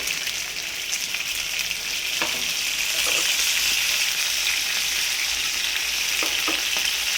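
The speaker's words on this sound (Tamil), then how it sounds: "ஒயிஸ்டர் சாஸ் ஊற்றி வச்சு" Oyster sauce poured into a hot pan crackles with a steady, loud sizzle throughout, with a few brief clinks of a utensil, while grilled chicken in black pepper sauce is being cooked.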